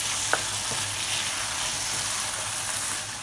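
Mixed vegetables with fenugreek leaves are stirred in a pan over low heat, a steady soft sizzle running throughout with one sharp scrape of the spoon near the start.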